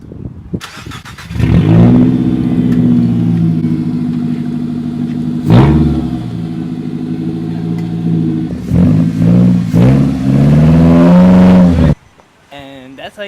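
A lowered Nissan Versa with a homemade exhaust, its cracked weld, revs loud and close, with sustained engine drones rising and falling and a sharp throttle blip midway before cutting off abruptly.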